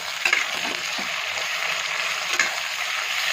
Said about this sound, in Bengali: টমেটো কুচিটা কিন্তু ভালো করে ভেজে নেবো।